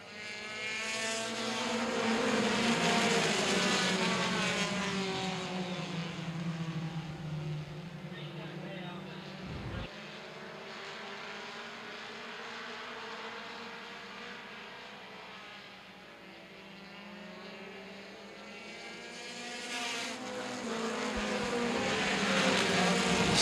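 Mini stock race cars roar through turns three and four at Baer Field Speedway during a 2013 championship feature, engines rising and falling across the clip as cars pass, with steady crowd-level engine drone throughout.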